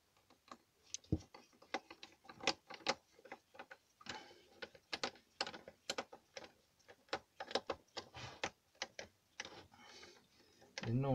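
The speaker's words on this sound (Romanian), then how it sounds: "Montez primul șurub acesta de deasupra." A screwdriver turns a screw into the plastic cover of a Grunman electric saw, a close series of quiet ratcheting clicks and ticks in an irregular rhythm, with someone speaking at times.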